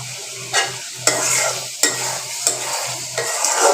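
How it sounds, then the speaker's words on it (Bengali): Spice paste for egg rezala stirred and fried in oil in a pan, a close sizzling hiss broken by five sharp spatula scrapes at roughly even intervals, loud and continuous with no voices. "তেল উপরে ভেসে উঠেছে, বোঝা যাচ্ছে মশলাটা কষানো হয়ে গেছে। আমি আরেকটু কষাবো"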